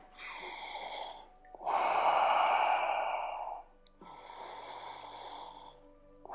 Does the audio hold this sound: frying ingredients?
no